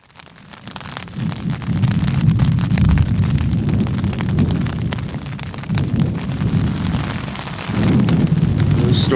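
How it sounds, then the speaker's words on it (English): A thunderstorm with lightning sits over a wilderness campsite in Quetico, on the Canada–USA border, bringing a steady low rolling rumble with heavy rain-like hiss that swells and eases throughout. "the storm is just sitting over top of us with lightning every 10 seconds"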